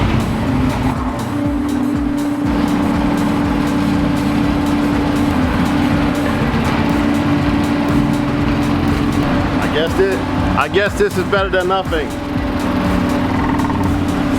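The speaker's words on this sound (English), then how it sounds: "the engine is running at about between 500 and 600 RPM." A Mk1 Volkswagen 4Motion car engine idles at low revs with a steady, rumbling drone, while someone talks over it and a brief squealing, chirping noise cuts in near the end.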